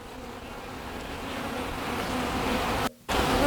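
Honey bees buzzing at a hive, a steady close drone of many wings that holds continuously, broken by one brief dropout near the end.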